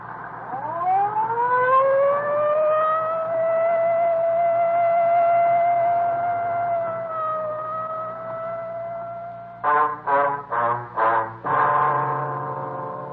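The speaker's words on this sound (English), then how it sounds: "Well, I'd better use the light and siren, Frank." A police car siren in an old-time radio crime drama winds up and holds a long rising wail, then switches to a few quick choppy yelps, fairly close and loud over low engine rumble.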